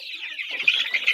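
Chicks and hens in a coop clucking and peeping, a steady thin chatter of small birds with a few louder hen clucks rising toward the end, close by and without talk.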